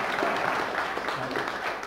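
A brief burst of audience clapping at a seminar-style free class, a blurred, continuous wash of many hands at a fairly loud level throughout.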